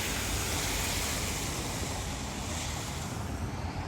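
Swollen river in Asheville, North Carolina, rushing in flood after Hurricane Helene, a steady, loud broadband roar of fast water that holds constant throughout, with some wind buffeting the microphone.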